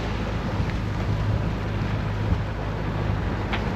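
A sailboat on a solo Atlantic crossing motors at sea under engine, giving a steady low drone with wind rush and water noise all through and no talk.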